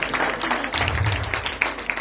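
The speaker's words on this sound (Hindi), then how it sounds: "एक बार जोरदार तालियां" Applause from an audience at an award function stage event, a steady dense patter of many hands clapping at moderate volume, with some crowd murmur underneath and no clear speech.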